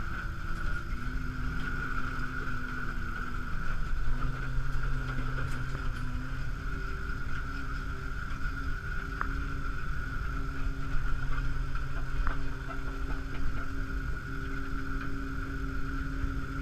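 An LMC 1200 snowcat engine runs steadily close by as the machine creeps slowly in reverse, a low idling drone with a sustained tonal whine.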